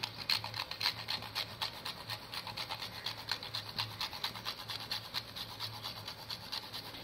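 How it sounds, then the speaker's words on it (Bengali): A piece of nutmeg is grated into powder, a quick run of quiet, rhythmic scraping strokes that repeat steadily at close range with no talk. "এখানে আমি নিয়ে নিয়েছি একটা জায়ফলের টুকরো। এবার এটা 1/2 চা চামচের 4 ভাগের 1 ভাগ গুঁড়ো করে দিয়ে দিচ্ছি"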